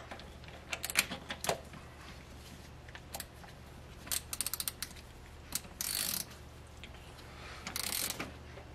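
A torque wrench set to 7 foot-pounds tightens the cam cover bolts on a Mercedes W108 M130 engine. Faint, quick ratcheting clicks come in short bursts, with a brief buzzy stretch near the end, in a quiet workshop.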